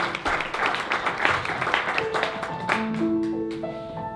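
A small live-music venue audience at the Ark claps for the sound engineer, a dense patter of hands that thins out and fades over a few seconds while sustained tones ring in underneath.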